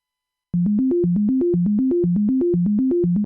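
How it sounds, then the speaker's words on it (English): A synthesizer sine wave oscillator plays a clean, pure-toned one-beat bass loop, repeating short stepped notes in a steady rhythm, close and alone. "right now my oscillator on the operator is playing the sine wave"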